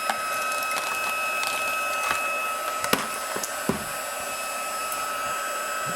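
Heat gun blowing hot air to heat emboss a handmade Christmas card, a steady close whooshing roar with a few faint clicks and taps scattered over it, no voices.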